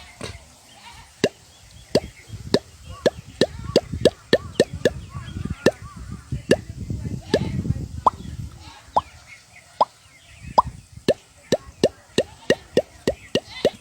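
A voice imitates the sound of water coming from the pipe of an arsenic-free tube well. Steady, rhythmic sharp plops and clicks repeat about once a second for over ten seconds, close, with soft breathy gurgling between some of them.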